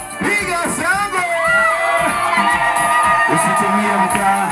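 A lively crowd cheers and whoops, a continuous close wash of shouting voices and raised calls lasting throughout.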